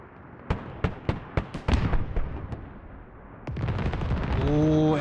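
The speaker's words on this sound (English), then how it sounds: "Ooh, and I mean, that was a good airstrike. It actually hit the hab and the radio" Airstrike explosions in the military video game Squad land as a string of sharp, booming blasts, about eight in quick succession, followed by a rumbling roar that swells toward the end.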